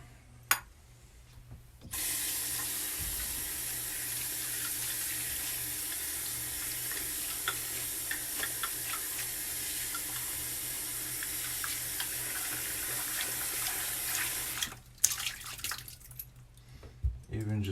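A shaving bowl being rinsed under a running tap: a steady, close rush of faucet water fills most of the stretch, with brief quieter moments before and after.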